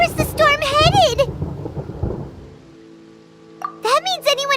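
A deep rumble of thunder during a storm in Genshin Impact rolls low beneath a talking character voice, fading into a quiet stretch before speech resumes.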